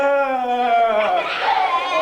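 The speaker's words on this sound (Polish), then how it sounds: "tam dziewczyna jedna zaraz piszczała" A girl lets out a sustained, high-pitched squeal in a crowd: one wavering, harmonic cry lasting about two seconds over a dense background of crowd noise.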